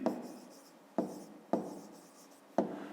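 Four scratchy bursts of writing by hand during a fifth-grade math exercise, each stroke set starting sharply and trailing off, close and fairly quiet with no talk.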